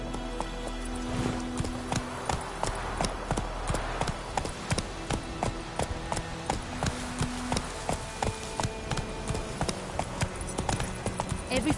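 A horse gallops in the video game The Witcher 3 on PS5, its hooves striking in a fast, steady clip-clop rhythm throughout, moderately close, with a voice speaking briefly over it.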